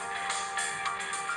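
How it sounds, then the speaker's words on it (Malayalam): A mobile phone ringtone, a bright steady electronic tone that pulses with a few soft repeats and plays alone at moderate volume. "ഫോൺ കയ്യിലിരുന്ന് റിങ് ചെയ്യുന്ന നീ കാണുന്നില്ലേ?"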